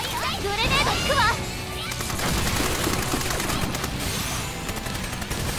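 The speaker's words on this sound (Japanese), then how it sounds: "よっしゃ、 グレネード行くわ。" Gunfire and a grenade blast in the Sword Art Online: Fatal Bullet video game, with a dense stretch of rapid shots and bursts mixed with game voices and effects, loud and continuous throughout.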